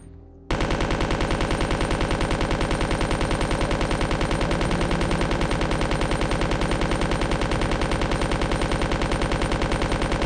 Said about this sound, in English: Give me a chance to fire!